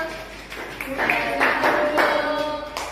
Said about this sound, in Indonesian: tepuk tangan untuk kelompok 2 malaikat Mikael.